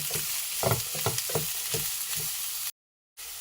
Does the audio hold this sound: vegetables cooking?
yes